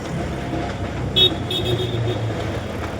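An auto rickshaw rumbles along near home amid road traffic, its engine droning steadily while a short horn toot sounds partway through.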